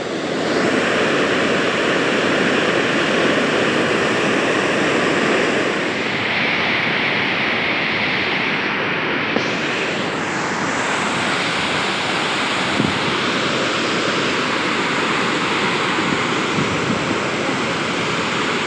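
An open gate on an overflowing village dam at Hamipara releases water in a loud, steady, close roar of rushing water that never lets up, with no voices.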